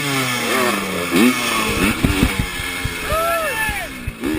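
Vintage KTM motorcycle engine at an off-road vintage race event, sputtering and revving unevenly in sharp bursts close by, with pitch rising and falling as it struggles.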